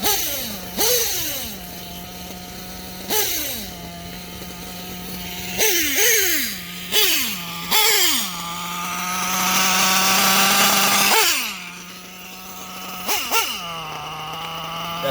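A Reds nitro engine fitted with an R5R horizontal carburetor idles, then revs in repeated sharp blips of throttle that fall back to a steady buzzing idle, including one longer sustained rev, loud and close with no speech.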